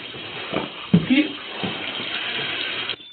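Steady rush of water running from a tap fills the whole stretch, continuous and fairly close, with brief bursts of tense speech and movement breaking over it near the start before the flow cuts off at the end.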